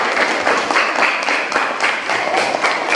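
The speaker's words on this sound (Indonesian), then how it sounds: "Kita sekali lagi memberikan tepuk tangan untuk mereka." A classroom of students applauds a student group after its performance, a dense, lively patter of many hands clapping close by throughout.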